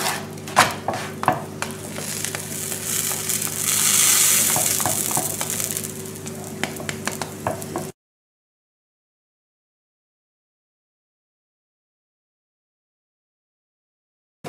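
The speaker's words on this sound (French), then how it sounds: "Bien sûr, il faudra les faire cuire sur feu moyen. Il faut les dorer de chaque côté." Mssmen, stuffed Moroccan flatbreads cooked in sunflower oil in a pan over medium heat, sizzle and spit steadily for about eight seconds with faint stirring clatter, then the sound cuts to silence.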